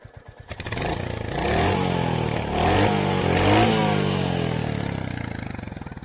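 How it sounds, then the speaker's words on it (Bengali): Royal Enfield Hunter 350 2025 slipper clutch model, exhaust note rumbling close by: a few low idle pulses, then a steady loud thumping rev that rises, dips briefly and swells again before easing off. "এটা হচ্ছে আপনার এক্সস্টের সাউন্ড।"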